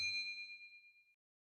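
A single bright notification bell ding rings out cleanly and decays smoothly over about a second into silence, with a faint low thump at its onset.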